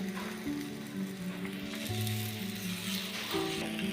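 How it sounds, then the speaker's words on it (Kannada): A thin masala holige flatbread sizzles on a hot griddle with a steady, close crackle that runs through the whole stretch. "ಈಗ ನಾವು ಹಂಚಿಗೆ ಹಾಕ್ಕೊಳ್ಳೋಣ"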